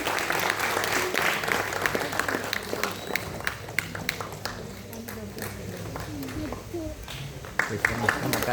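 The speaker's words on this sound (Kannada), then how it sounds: "ದಯಮಾಡಿ ಜೋರಾದ ಚಪ್ಪಾಳೆ." Audience applause after a Kannada play, a loud sustained wash of many hands clapping through the whole stretch, with scattered sharper claps and crowd noise beneath.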